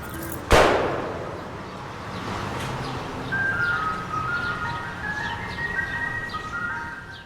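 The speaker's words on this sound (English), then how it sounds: "The ice cream trucks come down the street, you hear the song playing" An ice cream truck's chiming tune drifts from down a street, a few thin melodic notes from a distance after a single sharp crack near the start, with no one talking.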